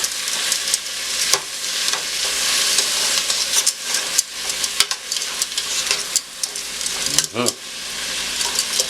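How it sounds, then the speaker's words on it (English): Vegetables for saltfish sear in a hot pan with a steady, dense sizzle and hiss, close up, with occasional scrapes and clinks of a utensil against the pan. "I have the vegetables searing"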